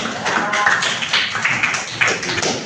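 A classroom audience in an Islamic religious education lesson gives a burst of applause, a dense, steady patter of clapping lasting a few seconds, with some voices mixed in.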